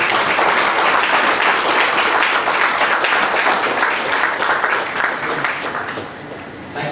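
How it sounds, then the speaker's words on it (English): A seminar audience applauds at a tax law event, a loud, sustained burst of many hands clapping that thins out slightly toward the end. "Can we have a round of applause for?"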